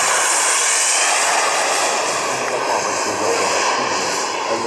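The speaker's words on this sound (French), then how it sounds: "certains Américains s'offrent ceci, un Viper Jet pour voler avec madame ou avec un copain durant le week-end sur le réacteur" A Viper Jet, a turbine jet aircraft, passes steadily overhead with a loud, continuous hissing whine that stays constant throughout, filling the air at an outdoor model flying event.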